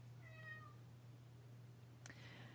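A cat meows in a short run of several tonal, rising-falling calls early on, then one sharp louder sound near the end, all over a steady low hum with no talk.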